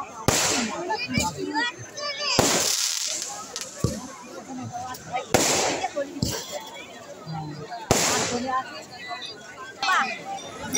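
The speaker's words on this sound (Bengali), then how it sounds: "একের পর এক বাজি ফাটানো হচ্ছে, তোমরা দেখতেই পাচ্ছ।" Festival fireworks and firecrackers burst one after another, sharp loud cracks every couple of seconds with crackling tails, while people talk and chatter nearby throughout.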